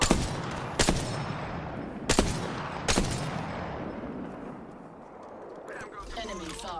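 Sniper rifle shots in the video game Apex Legends, four loud, sharp cracks spaced about a second apart, each followed by a rolling echo that fades into quieter ambience.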